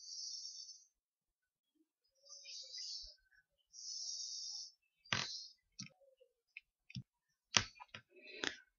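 A computer mouse clicks several times in short, sharp, close taps, scattered between pauses and faint bits of speech.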